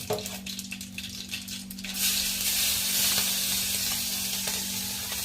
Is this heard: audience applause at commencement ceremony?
no